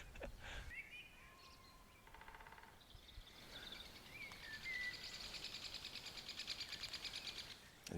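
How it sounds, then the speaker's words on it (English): Two woodpeckers in a territorial argument at Walney at dawn give chattering, rattling calls over a noisy outdoor background, with other bird calls mixed in and a steadier rapid chatter building toward the end, moderately distant. "So that chatter was the woodpeckers as well?"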